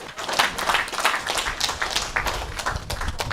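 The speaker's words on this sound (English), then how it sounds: "Round of applause, give it up." A crowd at a mediumship demonstration claps in a scattered, uneven burst of applause, moderately loud and continuous for a few seconds.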